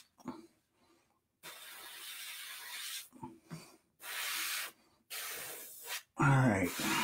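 Airbrush spraying Liquitex ink, several bursts of hissing airflow a second or so long with short pauses between, close and fairly loud, the last burst ending in a raspy gurgle, with a brief voice between sprays.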